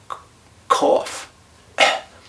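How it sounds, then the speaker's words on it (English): A few close, forceful deliberate coughs to clear mucus, one brief catch followed by two harsh bursts separated by a short pause. "right now you have to cough"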